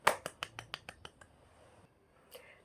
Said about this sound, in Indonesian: Tepuk tangan untuk teman kalian yang sudah bisa menjawab.